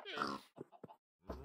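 A few short pig grunts and snorts in Minecraft, in quick succession, close and fairly loud, with a brief pause before a final grunt.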